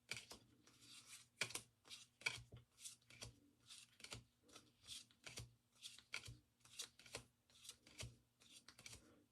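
A deck of matte-finish playing cards is shuffled over and over, giving a steady run of soft papery riffles about twice a second, close and alone with no talking.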